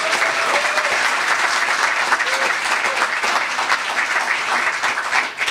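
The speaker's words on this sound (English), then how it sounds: "How about a round of applause for the whole team?" An audience at a farewell open-mic gathering at Pier 39 gives a full, sustained round of applause, with dense, even clapping throughout.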